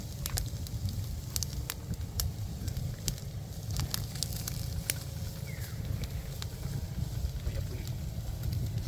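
A wood fire crackles under fish being grilled, giving sharp scattered pops and snaps over a dense, steady low rumble.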